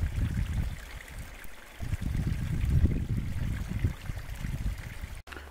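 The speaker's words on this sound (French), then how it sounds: "Des petits cours d'eau." Small streams of water run along a hiking trail, a steady close trickling and burbling flow that continues throughout with slight swells, ending in a brief dropout.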